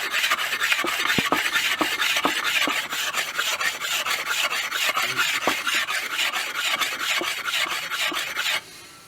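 Water stone being flattened by rubbing, a continuous loud abrasive rasp with rapid back-and-forth strokes that stops just before the end.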